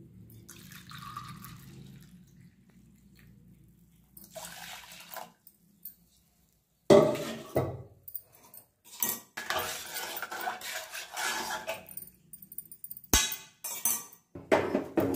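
Milk poured into a pan and stirred for badam milk: a soft trickle at first, then after a pause lively clinks of a spoon against metal and splashing liquid, close by and irregular.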